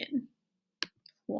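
A couple of quick, sharp clicks from typing a number on a keyboard fall into a pause between stretches of a person talking.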